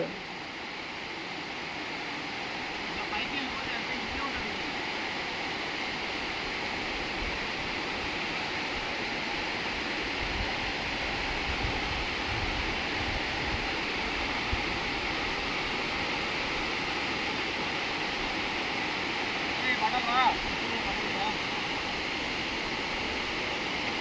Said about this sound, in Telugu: చాలా వస్తున్నాయి నీళ్ళు వస్తున్నాయి మాకు